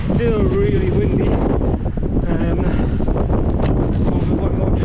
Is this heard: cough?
no